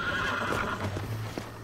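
Horse in the Red Dead video game gives a short whinny amid clip-clop hooves and steady background rumble, moderately loud, with no talk.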